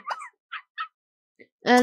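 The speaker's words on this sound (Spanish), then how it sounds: "El ruido que acaban de escuchar es el hermoso perrito" A dog barks in The Sims 3 during a wedding episode, giving a few short, clipped yips followed by a fuller, louder bark at the end, close and clear with no talking.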